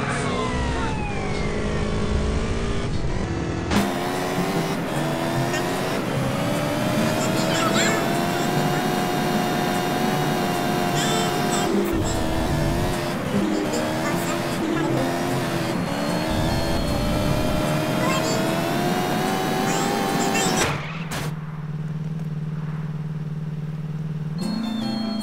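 Motorbike engine in the video game GTA San Andreas, a loud, steady droning hum with shifting revs that holds for about twenty seconds, then cuts off abruptly to a quieter background.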